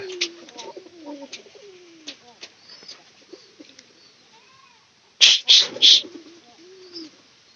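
Pigeons in a loft give soft cooing and rolling coos, with a burst of sharp flapping or scuffling near the end, close and fairly clear against a quiet background.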